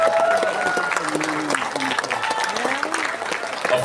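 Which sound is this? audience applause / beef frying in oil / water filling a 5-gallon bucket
audience applause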